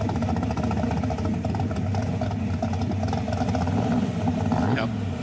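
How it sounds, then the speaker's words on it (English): A car engine idles and burbles steadily at close range throughout, with a low continuous rumble and a brief rev near the end while cruising slowly. "Just idling around, making it sound like race car noises."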